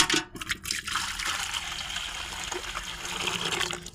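Warm water pours steadily into a container for washing dirty towels, a continuous close trickling gush with a brief clatter at the start and no talking.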